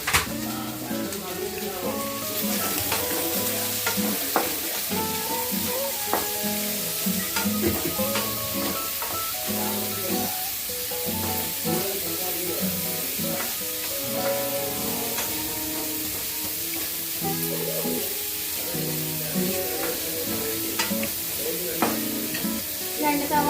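Onions fry in oil for a Kerala chicken curry, a steady close sizzle broken by repeated scraping and clinking stir strokes of a spoon against the pan, with occasional talk.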